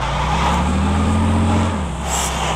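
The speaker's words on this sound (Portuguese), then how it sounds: "Eu acho que a Belé tem o barulho do Hudson Hornet, né?" A car engine in the Car Parking Multiplayer video game, tuned to sound like a Hudson Hornet, holds a steady loud low drone with a slight pitch rise and then drops off near the end, with no talk over it.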